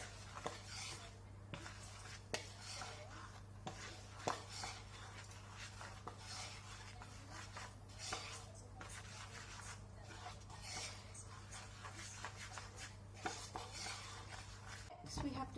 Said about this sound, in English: I have to mix it now